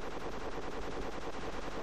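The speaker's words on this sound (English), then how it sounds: "I'll see if I can shoot the sniper." Rapid automatic gunfire crackles continuously in a Company of Heroes Blitzkrieg battle, aimed at an enemy sniper; dense, steady bursts fill the scene with no pauses or talk.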